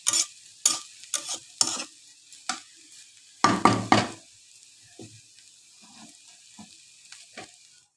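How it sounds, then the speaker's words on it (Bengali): Fresh potatoes frying crisp in oil in a pan, stirred and turned with scraping spatula strokes in short bursts and a louder cluster midway, over a faint sizzle with quiet gaps and no talk. "তেলের উপরে ভাজি।"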